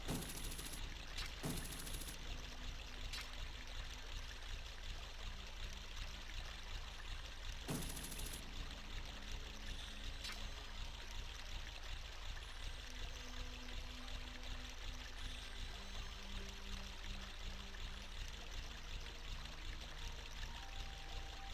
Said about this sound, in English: you kind of have to move a little bit quickly up the waterfall